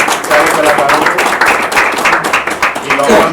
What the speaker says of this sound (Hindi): उसके लिए एक बार जोरदार तालियां हो जाए सारे कलाकारों को।